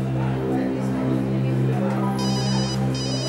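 A telephone rings steadily and loudly over a sustained tonal background, with no voices during the ring.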